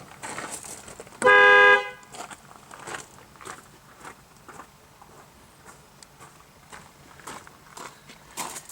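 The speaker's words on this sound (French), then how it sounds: "Klaxon d'origine." One loud, sustained honk of about half a second from the original factory horn of a Nissan Skyline R34 GT-R V-Spec, followed by quiet footsteps and light handling noises.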